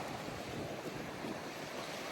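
Waves washing at the water's edge on a beach, a steady close surf rush blended with gusty wind buffeting the microphone, with no talking.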